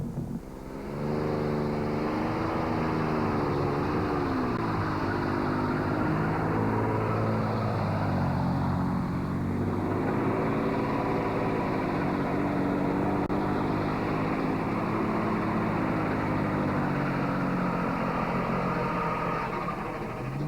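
Turbocharged pickup truck at a truck pull in Tomah, Wisconsin, its engine roaring loud and sustained for about twenty seconds, pitch rising and falling as it is throttled down the track, with no voices over it.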